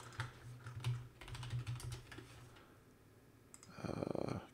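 Someone types a quick search on a computer keyboard: soft, rapid key clicks in a short burst, a brief pause, then a denser run of taps at close range over a low background hum, with no speech.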